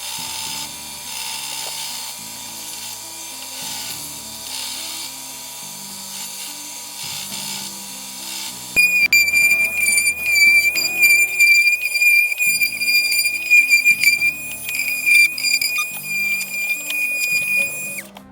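Power tool whine with grinding and ratcheting mechanical texture; it steps up louder and harsher midway, with a steady high tone, as a spindle sander works an MDF guitar template.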